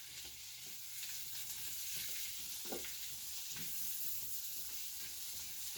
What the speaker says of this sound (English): I'm just going to fry this up.